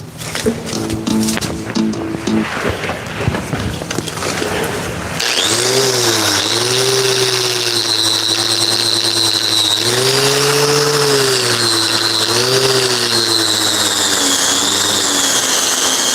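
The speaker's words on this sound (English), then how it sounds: "I think we'll have to use the wire wheel" A wire wheel power tool spins up after a few seconds of handling noise, then runs loud and close with a steady whine that dips and rises as it bears against the work.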